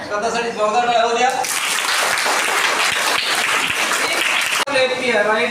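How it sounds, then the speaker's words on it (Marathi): A group of children at a kindergarten and primary school break into loud, continuous clapping for about three seconds, with voices heard just before and after the applause. "स्वतःसाठी जोरदार टाळ्या द्या."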